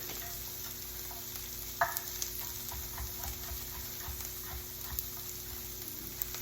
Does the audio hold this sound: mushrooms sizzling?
yes